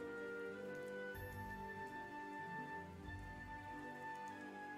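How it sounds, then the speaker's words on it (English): Rain falling steadily, a soft continuous patter at low level throughout, with faint tonal background sounds and no voices. "It's raining."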